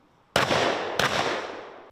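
Two sharp shotgun blasts at a clay and situational shooting demonstration, each a loud crack with a long rolling echo, spaced about two-thirds of a second apart outdoors.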